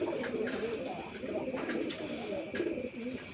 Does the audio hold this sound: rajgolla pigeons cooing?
yes